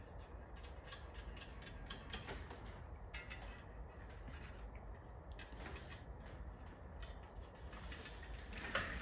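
Bolts are ratcheted tight while assembling a Pole Position arcade cabinet, giving a faint, continuous run of quick mechanical clicks close by.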